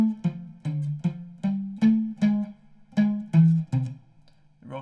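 Guitar plays a funky, rolling riff as a run of about ten evenly spaced plucked notes, close and clear, with nobody talking.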